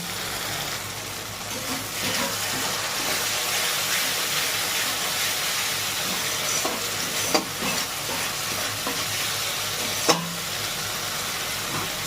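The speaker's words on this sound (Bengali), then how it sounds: "এটা দিয়ে ভালো করে এবার এটা কষিয়ে নেব" Spice masala stir-fried in oil for a prawn and pointed gourd curry: a steady, close sizzle with continuous stirring and a couple of sharp utensil clinks near the end.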